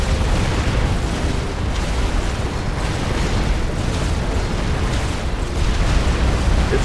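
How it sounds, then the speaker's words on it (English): Turrets firing in the real-time strategy game Supreme Commander, a dense, continuous roar of overlapping booms and blasts that stays loud and unbroken throughout, with no voice on top. "Those are all turrets firing."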